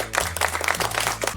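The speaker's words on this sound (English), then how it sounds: "The audience claps loudly." A live audience claps loudly in a steady burst of applause lasting over a second, with a low music bed continuing underneath.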